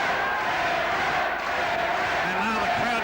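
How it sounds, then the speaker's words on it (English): A boxing crowd at a Lincoln Stewart fight chanting rhythmically for him, a loud, dense roar of many voices with a commentator talking over it. "Big chant for Lincoln Stewart,"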